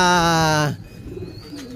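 Racing pigeons coo in a breeder's loft, one loud close tonal coo lasting well under a second, then quieter bird murmurs and rustling.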